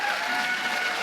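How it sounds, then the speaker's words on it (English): Dense, steady applause from a large crowd, even and continuous throughout the short burst, with no pauses or individual voices standing out. "It's like canned applause."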